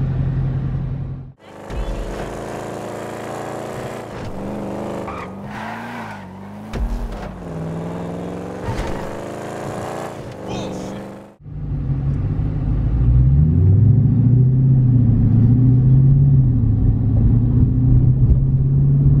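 A car drives and tries a U-turn on a narrow road, its engine rumbling and revving up and down close by, with a brief cut and then a steadier, louder engine drone as it moves off.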